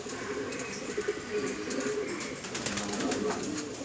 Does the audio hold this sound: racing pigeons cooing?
yes